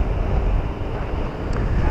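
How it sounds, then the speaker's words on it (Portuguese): Steady, loud wind buffets the microphone at a beach under construction, a continuous low rumbling roar with gusty surges and a faint hiss of surf behind it, no voices. "sinto o vento a bater em mim"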